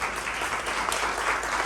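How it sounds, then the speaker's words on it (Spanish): Church congregation giving hearty applause to a master's in theology graduate, a brief, dense burst of clapping filling the room at moderate volume. "lo recibimos con un fuerte aplauso al graduado máster en teología."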